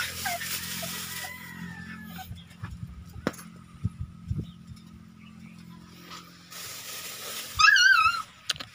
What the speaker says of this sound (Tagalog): may bagong manok din tayo dito